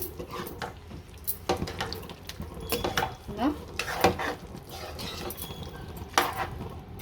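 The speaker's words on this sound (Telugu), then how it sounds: "ఇవన్నీ వేసుకుని మంచిగా కలుపుకుందాం" A spoon scrapes and clacks against a pan while chicken masala with garam masala and spices is stirred, irregular knocks and scraping at close range over a faint sizzle.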